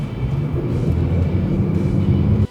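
A Mercedes E450 4MATIC with a 3-litre inline-six accelerates as a steady, smooth low engine drone with road rumble, heard from the cabin and holding constant before it cuts off abruptly.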